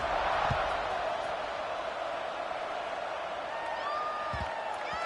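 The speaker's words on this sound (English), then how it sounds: "this crowd is buzzing after that last score" Football stadium crowd at a Cal versus Nebraska game, a broad continuous roar and murmur of thousands of fans filling the air, with a few thumps and a rising whistle-like tone near the end, while a commentator speaks.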